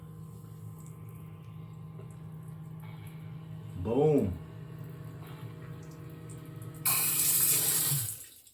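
Water gushes out in a loud burst near the end as a newly installed sump pump discharges, following a steady motor hum, with a brief spoken word partway through.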